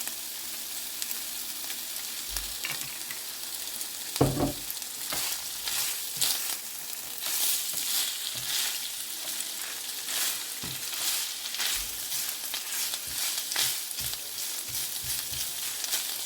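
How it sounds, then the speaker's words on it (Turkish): Minced meat and onion fry in oil in a pan, giving a continuous moderate sizzle with occasional soft stirring knocks and scrapes, steady and close throughout. "soğanını veriyorum. 5-10 dakikada böyle kavrulsun."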